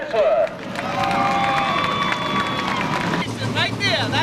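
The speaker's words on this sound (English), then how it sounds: "give a big round of applause for Kenny Spencer" Speedway grandstand crowd at Seekonk Speedway applauding and cheering for driver Kenny Spencer after weekly racing, a broad wash of clapping and crowd noise with tonal whistles and voices over it.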